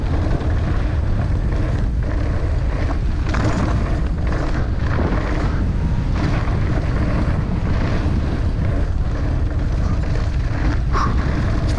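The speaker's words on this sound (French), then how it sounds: "Là il y a beaucoup de vent." Strong wind roars against a skier speeding down a World Cup ski slope, a loud continuous buffeting rush that swells and dips throughout, with no clear voice over it.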